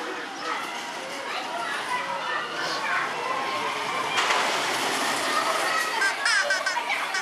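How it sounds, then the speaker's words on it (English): Rumbling and clattering of a roller coaster train rolling in at an adventure park, amid chatter and children's voices around. "Here comes our train."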